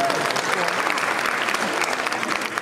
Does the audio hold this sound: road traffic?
no